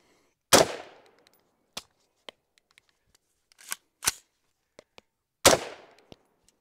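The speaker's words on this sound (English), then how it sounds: "Maybe Palmetto State Armory guns actually do suck when you shoot a ton of rounds" A PSA Sabre 15 AR-style rifle firing, a few loud sharp shots spaced seconds apart with faint clicks and small metallic ticks between them, close by.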